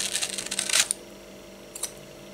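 Freshly sharpened scissors, honed on a homemade sharpener, cut through newspaper. Crisp, close snips come in a quick run, then a single snip follows after a pause, all fairly quiet.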